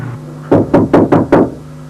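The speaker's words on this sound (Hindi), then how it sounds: "भाई दरवाजा खटक रहा है." Four sharp knocks on a door, evenly spaced in quick succession, loud and close, with a faint hum underneath and no talking.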